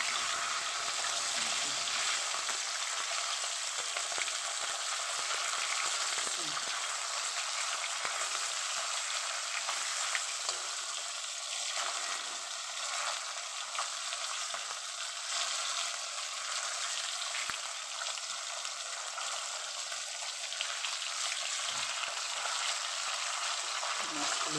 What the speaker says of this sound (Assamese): এইটো মই মাছটো এতিয়া লাৰি দিলোঁ, উল্টাই দিলোঁ